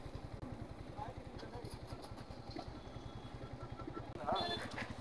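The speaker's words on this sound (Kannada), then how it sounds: "ಇವ್ರು ಗಾಡಿ ತೆಗಿತಾವ್ರೆ." A motorcycle idles with a steady low, pulsing thrum and then pulls away at a fog-covered viewpoint on Charmadi Ghat during the monsoon, with people talking nearby and a brief rise in engine noise near the end.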